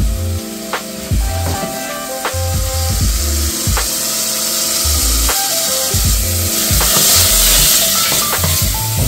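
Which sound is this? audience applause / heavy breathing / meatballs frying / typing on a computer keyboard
meatballs frying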